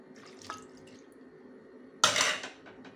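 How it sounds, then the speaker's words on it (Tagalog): Vinegar is poured into a cooking pot over bitter melon for fish paksiw, a brief splashing gush following faint drips, close by with no talk. "Tapos nilalagay na natin yung ating suka."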